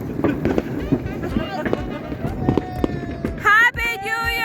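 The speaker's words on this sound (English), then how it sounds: "You can't even see the fireworks." Fireworks bang and crackle on New Year's Eve during a snowstorm, a dense run of pops under loud excited voices, with shouting and whistling peaking near the end.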